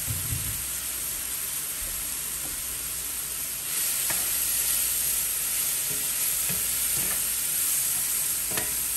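Vegetables frying in a pan over a cabin breakfast stove give a steady, loud hiss and sizzle throughout, which jumps up a few seconds in as they are tossed in. Occasional spatula scrapes and clicks come through, with no talk.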